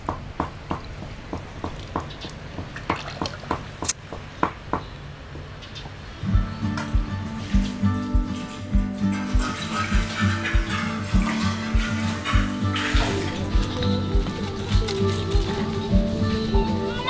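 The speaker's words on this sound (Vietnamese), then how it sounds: "Đang xả nước vô để mà rửa cho sạch." Running water rinses small pig intestines in an outdoor kitchen on an island near Nha Trang, Vietnam, a steady splashing flow under broadband noise, joined by a louder low rumble and clattering from about six seconds on.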